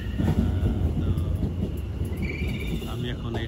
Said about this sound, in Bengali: এই যে ট্রেন এসে গেছে। এই ট্রেনটা যাবে হচ্ছে এনফিল্ডে।